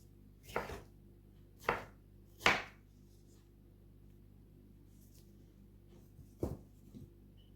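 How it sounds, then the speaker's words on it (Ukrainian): A knife chops peeled tomatoes sharply against a board: three quick cuts, a pause, then two more, crisp and close in an otherwise quiet room. "зняла шкірку і нарізаю шматочками"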